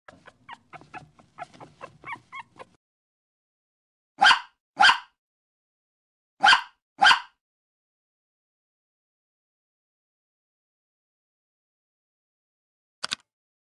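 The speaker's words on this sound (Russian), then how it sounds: "Щенок учится рычать, будет домик защищать." A puppy gives four short, loud barks in two quick pairs, then one faint short bark after a long silence, following a brief stretch of softer, fainter vocal sounds at the start.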